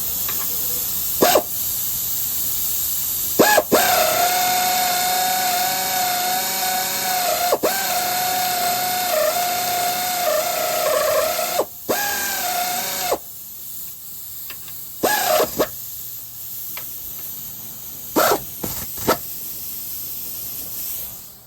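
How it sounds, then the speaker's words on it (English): An air ratchet drives in shock bolts on a 1988-1999 Chevrolet Silverado C1500, buzzing in long whirring runs with sharp clicks and hissing air between bursts, close and fairly loud, then several shorter spurts toward the end. "I'm lazy, so I got an air ratchet."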